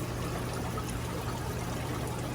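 An aquarium power filter sitting on the floor keeps water trickling and pouring in a soft, continuous stream with a faint pump hum beneath it.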